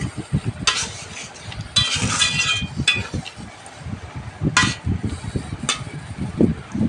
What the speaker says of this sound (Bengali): আমটা দিয়ে দিচ্ছি।